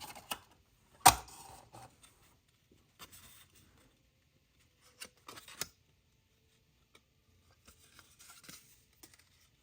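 Scissors trim parts of a C4 CAP torso model kit, giving sharp isolated snips and clicks spaced apart by quiet gaps, close and soft, with no talking.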